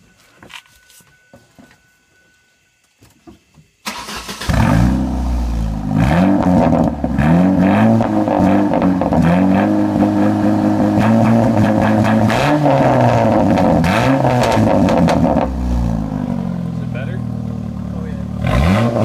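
A Ford Focus with a homemade, unwelded exhaust fires up after quiet clicks, then revs repeatedly and loudly up close, its rough rasp rising and falling before settling near idle.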